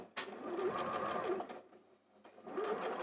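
A sewing machine stitches quilt fabric cut on the bias, running in a steady, fast mechanical whir. It stops briefly, then starts again, close and alone with no voices.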